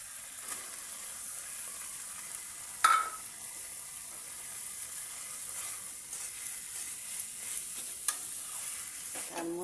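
Banana flower stir-frying in spice paste in a pan, a steady low sizzle and soft stirring scrapes with a single sharp clink of utensil near the start, fairly quiet and continuous throughout.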